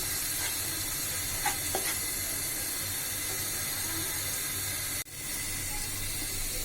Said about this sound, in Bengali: মশলাটাকে ভালোভাবে কষানোর জন্য একটু পানি দিলাম।